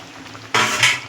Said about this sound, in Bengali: এবার এটা দিয়ে আমরা কিছুক্ষণ নাড়াচাড়া দেবো